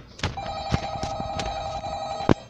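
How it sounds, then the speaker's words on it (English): A telephone rings with a steady, sustained electronic tone, sounding close and fairly loud, with a few sharp knocks and thumps around it and no talking. "Who's calling me?"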